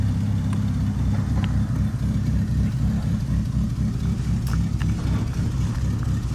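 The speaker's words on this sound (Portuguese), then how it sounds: "Olha o carro que tá saindo aí." A car pulls out and drives off on a city street, a steady low engine hum and rumble that holds close and even throughout, with no talking.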